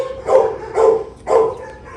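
A stray Doberman barks three times at an even rhythm, the barks loud and close with faint background noise between them.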